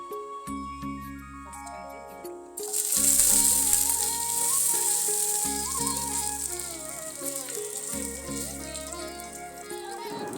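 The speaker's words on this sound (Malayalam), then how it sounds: "ഇനി അടുത്തത് കടുക് പൊട്ടിക്കുക" Mustard seeds spluttering in hot coconut oil, a bright crackling sizzle that starts loud after a quiet opening and keeps popping steadily, with a low repeating musical tone running underneath.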